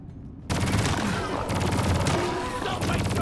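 Rapid automatic gunfire from a weapon in the video game Deep Rock Galactic, a dense, continuous stream of shots at a fast rate, loud and close, with a brief pause midway before firing resumes.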